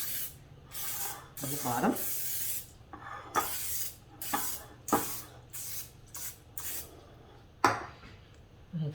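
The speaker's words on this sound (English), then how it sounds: "I'm gonna spray it with a non-stick spray" Repeated short bursts of non-stick cooking spray hissing close by onto a pie tin, several quick puffs at irregular intervals, with a brief spoken remark partway through.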